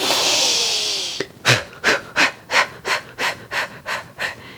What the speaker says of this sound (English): And then we'll take another breath. Let it out. Inhale.